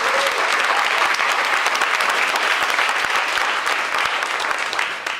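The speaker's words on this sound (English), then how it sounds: "Can we clap it up just for that?" Sustained applause from an audience at a student of the year awards gala, steady and dense for the whole stretch with no talk over it.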